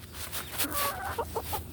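Hens cluck close by in a short run of quick, rising calls over a steady background hum, with a few clipped clucks trailing at the end.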